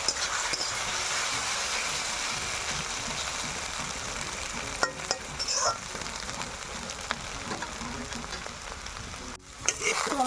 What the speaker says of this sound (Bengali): ডিম দিয়ে আলু ভাজা হয়ে গেছে